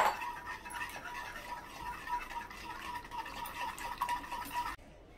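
A spoon or whisk stirs milk into a white sauce for pasta, working out the lumps. It makes a steady, close-up swishing and scraping that runs without a break and then stops abruptly just before the end, with no talking.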